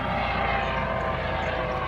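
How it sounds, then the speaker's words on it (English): Helicopters passing low overhead, a steady loud rotor and engine drone that holds throughout without any talk. "Oh boy, we got helicopters"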